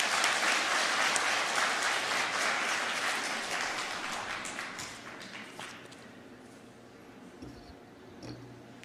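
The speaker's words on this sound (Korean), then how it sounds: "박수로 받아주십시오." A church congregation claps to welcome a visiting professor of Old Testament studies, the applause loud at first, thinning gradually and trailing off into a few scattered claps.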